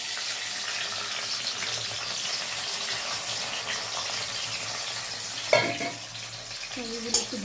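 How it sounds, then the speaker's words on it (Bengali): Cashews frying in hot oil give a steady close sizzle, broken by a couple of louder clattering knocks of a utensil against the pan near the end. "কাজুগুলো একটু ভাজা ভাজা হবে"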